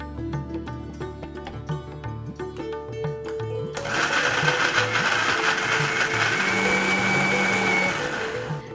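Electric mixer grinder whirring loudly as it blends tomatoes, onions, ginger and garlic into a gravy paste, starting after a stretch of background music and running steadily to the end.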